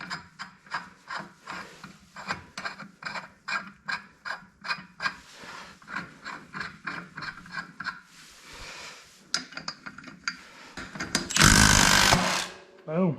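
A clutch puller is threaded onto the crankshaft of an Arctic Cat Trail side-by-side engine during removal. Up close it makes a steady run of short rhythmic metallic ratcheting and scraping strokes, ending in a louder rushing burst.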